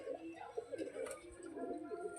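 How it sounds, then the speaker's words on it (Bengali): A female Giribaz pigeon coos softly and faintly in low, wavering tones, partly under a man's nearby speech in a quiet room. "এটা মাদি পায়রা"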